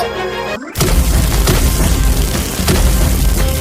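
Diwali firecrackers and rockets go off after a brief quieter lead-in: a sudden boom, then a dense, loud, continuous crackle of bursts and pops with a few sharper blasts standing out.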